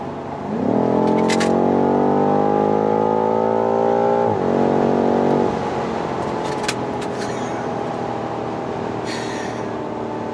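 A 2019 BMW M5 with 600 horsepower cruises at 150 km/h, its engine a loud, steady tonal drone that surges and then eases back into constant road and wind roar.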